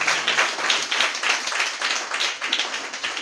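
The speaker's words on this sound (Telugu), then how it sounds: "చప్పట్లు కొట్టుదామా?" A church congregation claps their hands in a steady rhythm, many palms together in a dense, lively patter that continues throughout.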